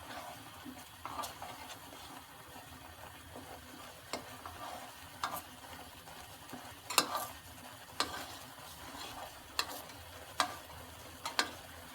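White sauce being stirred in a pan, with soft scraping strokes and faint sizzling under a quiet background, plus sharp spoon clinks against the pan at irregular intervals.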